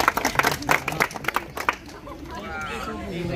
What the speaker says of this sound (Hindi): बोलो भाई ताली मार दीजिए इस बेटी के लिए